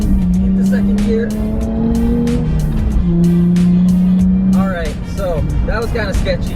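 A JDM car accelerates hard in second gear, engine pitch rising in long sweeps while the driver talks over it, ending with a tire squeal.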